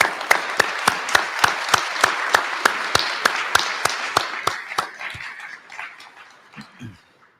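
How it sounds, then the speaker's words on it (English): Rhythmic unison clapping from an audience at an annual meeting and award event, sharp evenly spaced claps that gradually weaken and trail off, with a brief faint sound near the end. "Let's give them another round of applause."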